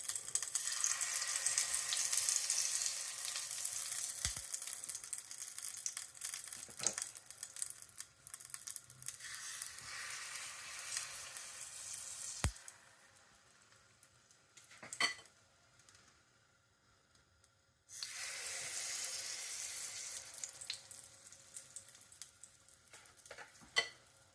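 Crumpet batter sizzles in buttered rings set in hot vegetable oil, a steady bright hiss that fades partway through, with occasional metallic clinks of the rings and utensils.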